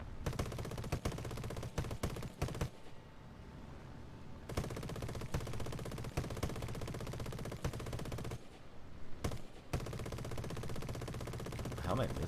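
Gunfire in War Thunder during a multiplayer stream: repeated sharp shots and short bursts crack out in clusters over a constant droning engine bed, with speech weaving through.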